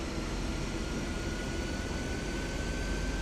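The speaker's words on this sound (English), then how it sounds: "If I bring it out of feather, not much of a change. You'll see the prop starts to roll up." A Reims-Cessna F406 turboprop's propeller coming out of feather and spooling up, a loud, even engine and prop drone heard from the cockpit with a faint steady whine above it.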